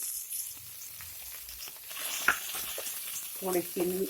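Vegetables for a mixed three-in-one dish frying in a pan: a soft, continuous sizzle. Louder scraping strokes come toward the end, as if the mixture is being moved around.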